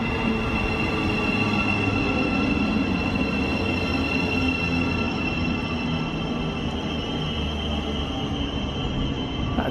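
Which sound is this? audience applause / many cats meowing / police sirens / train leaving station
train leaving station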